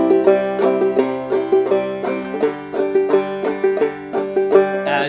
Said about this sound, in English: just bum diddying on the bottom two strings